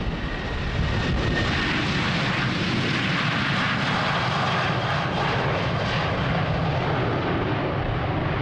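A jet airliner takes off from runway 36L at Amsterdam Schiphol on a windy day, giving a loud, steady engine roar that fills the whole stretch without a break.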